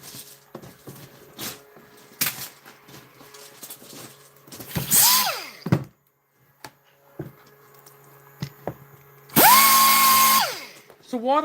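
An e-bike hub motor (QS205/QS273 custom hub) being worked over with 320-grit sandpaper, with loud bursts of a whirring power tool spinning up and winding down twice, plus scattered scraping and knocks between.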